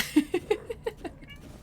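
Cartoonish cat meows from the video game Finding Cats, a quick run of five or six short, chirpy blips that grow softer and fade out within about a second.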